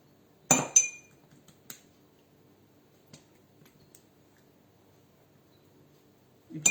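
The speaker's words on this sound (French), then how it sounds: "avec la cuillère toujours mouillée, hop, on va tapoter un petit peu dessus" A wet spoon taps a few times on choux pastry dough pressed into a mould for gougères, giving a close cluster of light clinks followed by sparse faint taps and one more clink at the end.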